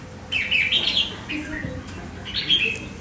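A red-whiskered bulbul (chào mào), a wild-caught bird described with a horse-nape, shrimp-back build and patterned bib, gives two bright chirping bursts a couple of seconds apart, fairly close, over low background noise and murmuring.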